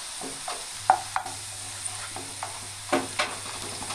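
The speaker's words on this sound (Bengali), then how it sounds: "এর মধ্যে দুটি এলাচ দিয়ে ভালো করে নেড়ে পেঁয়াজগুলোকে লাল করে ভেজে নেব" Onions and cardamom frying in a pan, stirred now and then, with a soft steady sizzle and a few light scraping clicks from the spoon, fairly quiet and close.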